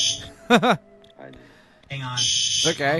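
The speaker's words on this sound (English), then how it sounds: "Is that a fire alarm?" A fire alarm sounds indoors as a harsh, high electronic tone in loud bursts, nearby, and people talk over and between the blasts.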